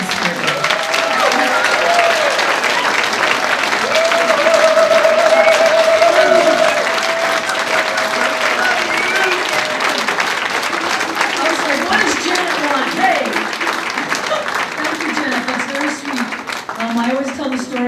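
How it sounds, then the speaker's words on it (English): A community celebration crowd applauds for Susan Stewart, sustained clapping from a full room that swells and then holds steady for the whole stretch, with voices mixed in underneath. "we haven't given her a round of applause yet"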